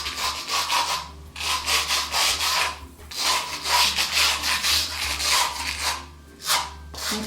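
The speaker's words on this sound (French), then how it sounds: "je vais commencer donc par la semelle où je mets cette petite brosse." A small brush scrubs the sole of a Stan Smith sneaker in repeated back-and-forth bursts, close and fairly loud, each stroke a dry rasping swish separated by brief pauses.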